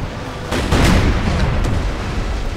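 Cannon fire from Empire Total War with a smoke and blood mod rumbles in heavy, overlapping booms, with a sharper blast about halfway through over a continuous low battle roar.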